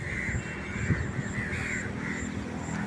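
Crows caw repeatedly at Galle Dutch Fort in Sri Lanka, with harsh, regularly spaced calls ringing out over a constant outdoor wash of wind and ambient noise.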